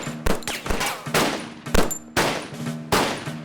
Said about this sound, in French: Tire à travers cette fenêtre.